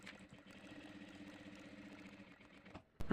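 A tailoring sewing machine runs a steady whirring line of stitches through paper during practice, a close mechanical drone that stops near the end before a sharp louder clack.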